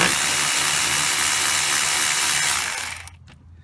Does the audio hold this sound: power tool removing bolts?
yes